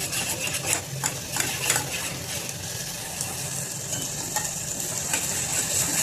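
Green chilies and garlic roast in a hot pan with a steady sizzle, joined by scraping and clinking as they are stirred, close and continuous.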